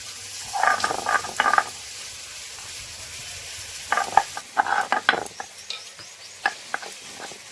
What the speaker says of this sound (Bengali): 7টা কাজু বাদাম নিয়েছি, আমি শিলে বেটে নিচ্ছি।